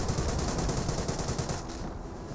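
Sustained gunfire from the Company of Heroes real-time strategy game pours onto German Stormtroopers, a dense, steady rattle of overlapping shots filling the whole stretch at moderate loudness.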